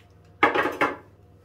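A plate, knife and fork clatter together in two quick bursts, close and fairly loud, as someone prepares to cut into a homemade Quorn vegetarian steak and gravy pie.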